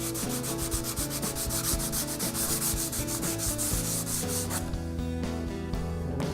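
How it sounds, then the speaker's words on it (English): Worn sandpaper rubbing lightly over a steel welding table to knock down burrs, with steady back-and-forth scratchy strokes that run continuously and close, then soften slightly toward the end. "take a little bit of degreaser and some worn out sandpaper and just really lightly hit that area just to take those burrs back down"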